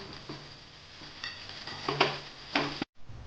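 Poha being stirred in a pan with coriander and a little sugar, heard as soft scraping and clinks of a spoon against metal over a faint sizzle, with a few sharper taps near the end.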